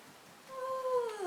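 A house cat gives a single rising-then-falling meow, fairly close and clear, over a quiet room with no talk.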